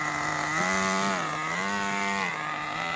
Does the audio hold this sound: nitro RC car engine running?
yes